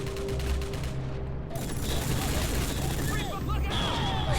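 Sustained, dense gunfire from the 2006 video game Rogue Trooper, a loud continuous rattle of rapid shots with heavy low booms running through the whole stretch.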